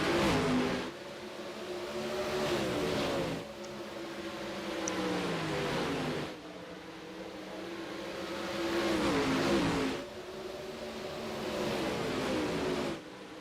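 Dirt late model race cars roar side by side around Bristol, their engines swelling and fading in repeated loud passes every few seconds, each revving pitch sliding down as the cars sweep by.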